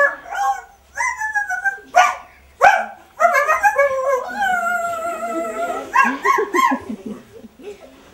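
A stage actor performing a Grimm fairy tale imitates a dog with a run of barks, yips and whimpering howls, loud and close, one voice carrying several drawn-out canine cries.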